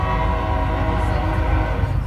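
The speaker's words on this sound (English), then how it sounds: "Train's passing by, guys." A train passes close by, loud and steady, its rumble and horn-like tones filling the whole stretch without a break.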